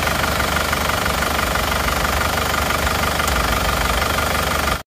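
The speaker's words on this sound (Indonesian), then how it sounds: "Itu suara mesinnya adalah seperti ini" An Isuzu Panther diesel engine, with oil smoke escaping from the oil filler cap, runs steadily up close with a loud, dense knocking clatter and constant rough vibration, then cuts off abruptly at the end.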